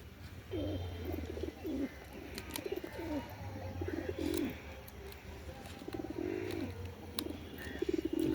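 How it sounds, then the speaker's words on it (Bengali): Pet pigeons, including a racing bird, coo repeatedly in soft rolling phrases, close by and steady with no talk, a low hum running underneath on a cold day. "কি সুন্দর দেখো আমার পায়রাগুলো ডাকাডাকি করছে"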